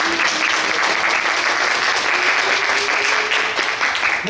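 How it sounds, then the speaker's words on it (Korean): A fan meeting audience applauds loudly and continuously, a thick wash of many hands clapping without pause for over four seconds. "박수 한번 크게 보내주시고요"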